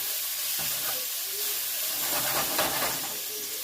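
Fajita vegetables thrown into a hot pan give off a loud, continuous sizzle and hiss that rises and falls slightly as they fry, with no talking.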